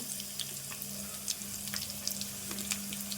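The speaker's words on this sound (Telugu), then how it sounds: "ఇప్పుడు ఉల్లిగడ్డ వేసుకుందాము" Onions dropped into a hot pan for potato pulao sizzle with a steady crackling hiss and scattered pops, close and moderately loud, with no talking.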